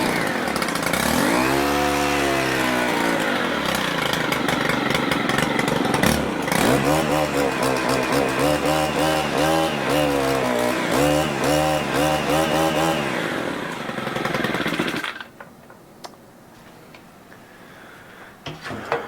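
A Stihl multi tool's small two-stroke engine with the choke on revs up loud and rough for about fifteen seconds, rising and falling, then cuts out abruptly to a faint low idle or near silence.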